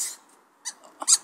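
A squeaky toy combined with a balloon lets out a few short, high squeaks in quick succession, close and fairly loud, with brief quiet gaps between them.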